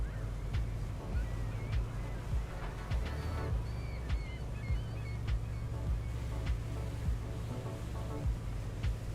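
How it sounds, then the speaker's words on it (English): Geese honk repeatedly in the fishing video game Fishing: North Atlantic, moderately close calls scattered over a steady low engine and water rumble. "Birds sound like they're next to me,"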